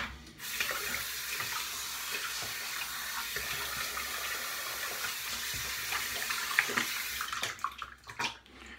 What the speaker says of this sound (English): let me go ahead and rinse off.